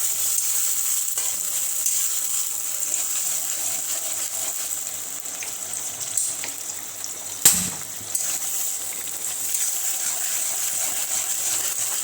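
Chicken wings fry in a pan with a steady, close hiss and crackle throughout, broken by one sharp clatter near the middle.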